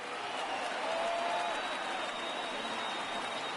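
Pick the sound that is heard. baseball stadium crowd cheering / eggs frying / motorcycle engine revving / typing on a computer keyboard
baseball stadium crowd cheering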